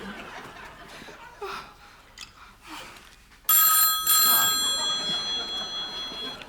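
An old-style telephone bell rings suddenly and loudly partway through, a sustained bright metallic trill after a stretch of soft laughter and murmuring in a theatre setting.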